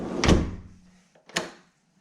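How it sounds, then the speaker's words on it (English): A Pella sliding glass patio door slides shut with a rolling thump, followed about a second later by a sharp click as the latch catches, both close and moderately loud. "Go ahead, close the door."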